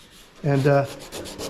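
Hand sanding on a hammer-damaged surfboard glass repair, a rough grit abrasive rubbing in one loud stroke, then softer scraping.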